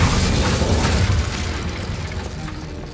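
Fire and disarming spells cast in Hogwarts Legacy, a dense, loud, rumbling burst of magical blasts that holds steady for a few seconds and then fades slightly, with no speech over it.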